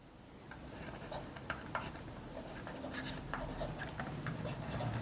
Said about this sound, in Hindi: तो यहाँ पर लिख सकते हैं